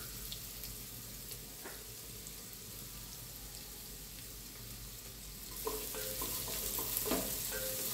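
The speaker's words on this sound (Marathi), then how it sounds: "आता कांदा अजून 1-2 मिनिटं परतून घेते" Onions sautéing in a pressure cooker for pav bhaji, a faint steady sizzle joined near the end by louder clatter and scraping as the pan is stirred, with no talking.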